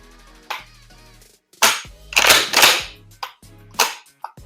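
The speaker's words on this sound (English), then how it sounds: "now we're gonna just go ahead and pull the trigger, see if it fires" A Mossberg 500 shotgun being dry-fired: a series of sharp mechanical clicks and clacks from the trigger and action, close and fairly loud, spaced irregularly over several seconds with no talking.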